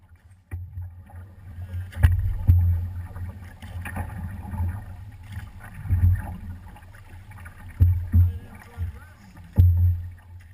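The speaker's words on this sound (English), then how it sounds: "let's watch how we use those in a sequence of paddling" Canoe paddle strokes in water, with a series of close, irregular splashing pulls and drips sounding in sequence while a person speaks between the strokes.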